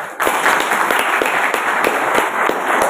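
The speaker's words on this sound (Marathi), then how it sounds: "या कामासाठी विशेष मेहनत घेणारे आमचे मित्र पत्रकार फुले साहेब यांच्यासाठी एकदा जोरदार टाळ्या" Hearty audience applause at a lecture gathering, loud dense clapping with a few sharper claps standing out, steady from start to finish.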